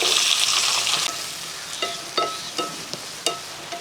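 Two large onions hit hot oil in a pan over a wood stove with a loud bright sizzle that gradually settles, followed by a series of sharp metallic scrapes and knocks as they are stirred.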